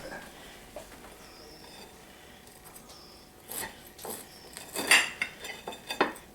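A knife cuts through crispy buttermilk cornbread in a cast iron pan: faint scraping at first, then louder metallic scrapes and clinks against the iron in quick bursts near the end.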